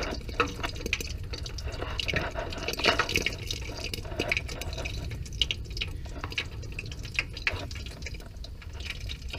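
Water gurgles and drips steadily through a homemade Fluka stove feeder at close range, with a continuous low rumble and scattered small splashes and no talking.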